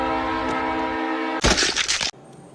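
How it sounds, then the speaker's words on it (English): A train in the video game Star Citizen arrives with a steady, loud horn-like drone, followed by a brief burst of harsh clattering rush before the sound drops away. "I have to wait until the next train comes along and turns me into pasta sauce so I can respawn"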